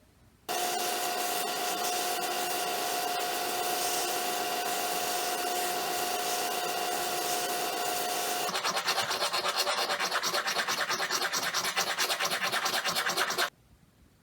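Steady rasping strokes of sanding smooth the sharp edges of metal claw blades on a dollar-store tiger claw craft. The scratching is close and continuous, with a faint whine in the first half and a rougher, faster rub after.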